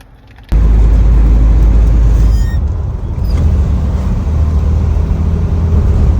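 Close, loud engine rumble from a Chevrolet S10 pickup driving to a gas station, a steady low drone running through the whole stretch with slight dips in intensity and no voices.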